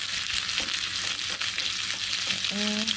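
Pieces of pork hock sear in a skillet, a continuous dense sizzle close up, with a short tonal squeak or voice-like note just before the end.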